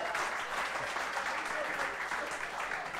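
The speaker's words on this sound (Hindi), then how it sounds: "तालियां बजाइए जोर से." Steady, loud applause from a crowd, sustained clapping throughout with no break.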